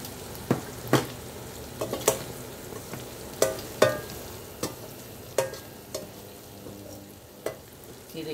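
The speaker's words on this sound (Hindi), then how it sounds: "ये देखिए हमारी भिंडी एकदम फ्राई हो चुकी है अच्छे से।" Okra (bhindi) frying in a pan with salt, turmeric, red chilli, garam masala and dried coriander, giving a soft sizzle punctuated by irregular sharp spatula taps and scrapes, close by.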